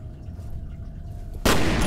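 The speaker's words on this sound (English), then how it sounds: "I think I can use my shotgun for this one." A single loud shotgun blast in the video game F.E.A.R. cracks out abruptly after a quiet low hum and keeps ringing until the end.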